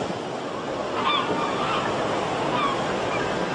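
Ocean surf at a wave power station, a steady close broadband wash of breaking water with no pauses, with a couple of faint honking bird calls briefly on top.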